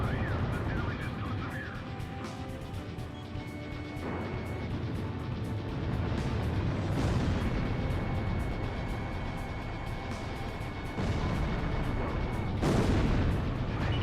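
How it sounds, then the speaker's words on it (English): Missile launch in the flight combat game Ace Combat Zero: a continuous jet roar with booming, whooshing bursts rising around the middle and again near the end. "Missile launched."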